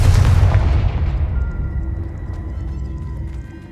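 Confringo fire spell blast in a Harry Potter video game: one loud, booming explosion that hits hard at the start and then rumbles and fades away over several seconds.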